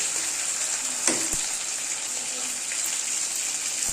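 Garlic and cumin paste hits browned onions in a hot pan for a chicken feet and turnip curry, a steady broadband sizzle running throughout with a brief clatter near the start and faint background noise.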